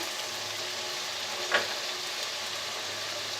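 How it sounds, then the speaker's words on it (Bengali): Onion paste frying in a pan for biryani gives a steady, soft sizzling hiss throughout, with one brief clatter midway. "তো আমি পেঁয়াজ বাটাটা দিয়ে দিছি পেঁয়াজ বাটাটা একটু কষিয়ে নেব"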